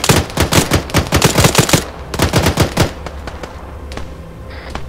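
Loud automatic gunfire in the video game Arma 3 during a zombie-fighting operation: long, rapid bursts of shots rattle back to back, pause briefly, resume in another burst, then trail off into scattered fainter reports.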